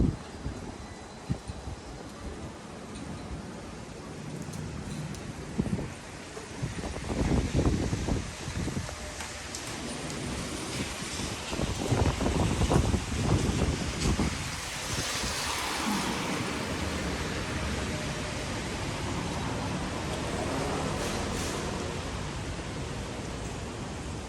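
Strong wind blowing outdoors in the rain, heard as a steady broad rush with louder gusts buffeting the microphone in the middle, fairly faint overall and with no talking.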